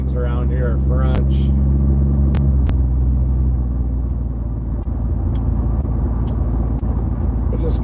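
A 1975 Plymouth Duster drives along a road in Wisconsin, its engine a steady, loud low rumble throughout, with someone talking briefly over it near the start.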